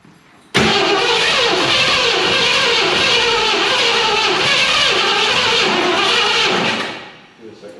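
A Ford Mustang that has been stalling, off the ground and not yet complete, cranks and catches, then holds a loud, rough, close engine roar for several seconds before it cuts out and dies away.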